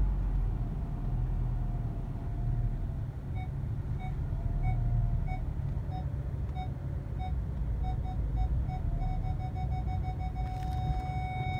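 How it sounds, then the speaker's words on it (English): Parking sensors on a Honda CR-Z 1.5 IMA Sport beep while the car reverses, a steady tone of short beeps that quicken into a near-continuous alert over a low, constant engine and cabin hum. "I'm just going to quickly reverse back just to show you parking sensors working as they should."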